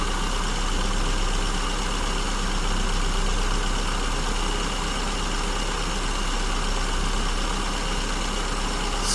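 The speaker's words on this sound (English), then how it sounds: "You can hear the engine speeds picking up." A car engine fitted with an SU carburetor idles steadily and close by as its fuel mixture is adjusted, a continuous broadband rumble with a faint rise in speed and no talking.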